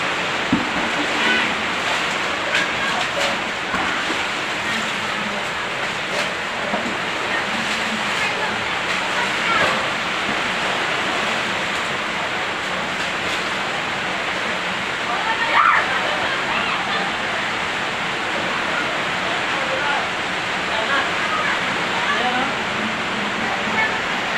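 Floodwater overflowing and rushing during Typhoon Kristine, a steady loud broadband roar of churning water that runs unbroken throughout, with people faintly talking beneath it.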